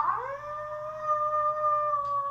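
A person imitates a wolf with a long, sustained howl that rises briefly at the start then holds a steady, slightly wavering tone for over two seconds, clear and fairly close.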